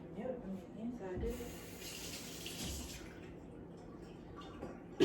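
Running tap water rinsing something in a sink, a soft steady splashing stream with a brief louder gush, faint and close, with a little background talk.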